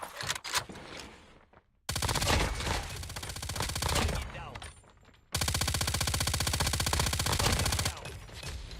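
An MG82 light machine gun fires in COD Mobile in two long, rapid sustained bursts separated by a brief pause, a dense, loud, even chatter of shots with a few scattered shots and clatter at the start.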